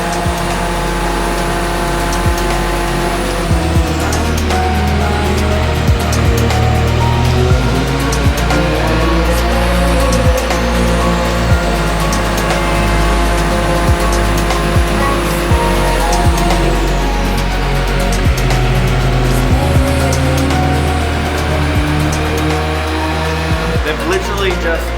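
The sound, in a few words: turbo 2JZ engine running on dyno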